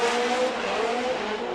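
Tire squeal from a Nexen-shod Toyota GT86 drift car at a Formula Drift event in Long Beach, a loud sustained screech with a wavering tone over engine roar, continuous for the whole short moment.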